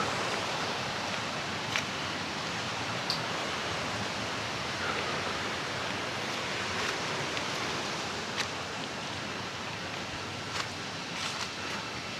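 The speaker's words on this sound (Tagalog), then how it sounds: "Gilid ng ilog." Water rushes steadily beside a river near Pisyo Falls in Siniloan, Laguna, a dense broadband hiss of close flowing water with a few faint splashes and no voices.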